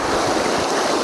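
Fast water rushes through a small stream in Victoria, a steady close hiss and splash with no pauses, alone.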